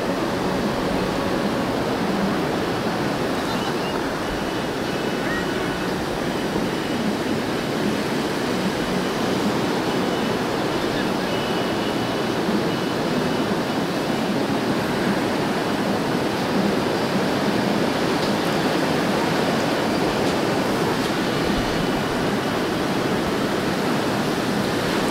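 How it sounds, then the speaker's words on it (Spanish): Surf rolling onto a beach at Tuxpan, Veracruz, a constant broad wash of breaking waves with no pause or talk, steady and fairly loud throughout. "la playa siempre es la playa"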